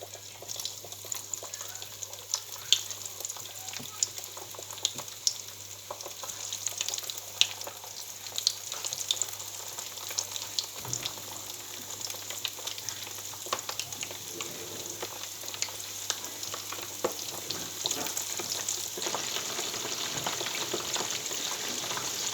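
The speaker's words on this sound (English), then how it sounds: "We'll slowly start placing these in carefully into the oil." Corn ribs fry in hot oil with a steady, dense sizzle and crackle that runs throughout, close and fairly loud, with occasional small pops and bubbling, no voices.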